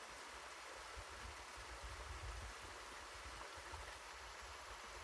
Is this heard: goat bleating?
no